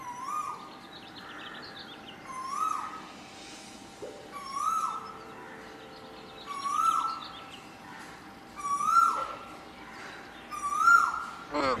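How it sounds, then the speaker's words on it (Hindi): A koel bird sings in the morning: a rising, whistled call repeats about every two seconds at moderate distance, with fainter chirps from other birds in between. "ये सुबह सुबह कोयल की मधुर आवाज हमारे कानों में ठंडक पहुंचाती है।"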